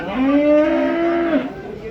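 A single long, loud cow moo, close by at a livestock market in Karabulak, Shymkent, rising and holding steady before trailing off, with faint background noise.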